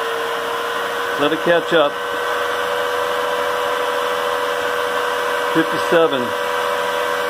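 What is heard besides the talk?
Tesla turbine driving high speed generator, spinning up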